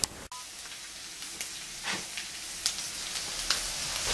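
Meat and onions fry in olive oil, a steady, fairly quiet sizzling hiss from the pan with a few small pops and crackles throughout.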